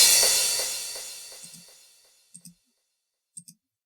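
A crash cymbal sample with ping pong delay in a hard trance production: a loud bright wash decays over about two seconds, followed by a few faint, short echo taps bouncing back at spaced intervals.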